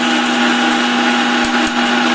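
A kitchen mixer grinder runs steadily, powdering roasted gram, cumin and asafoetida into fine flour for rava kodubale, a loud continuous motor whine with grinding rattle and no talk over it.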